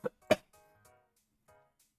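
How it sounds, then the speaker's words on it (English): A person recovering from a lingering cough gives two quick, close coughs in a row, followed by faint breathy sounds in a quiet room. "I'm still getting over that cough."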